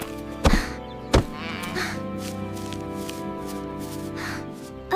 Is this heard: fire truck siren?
no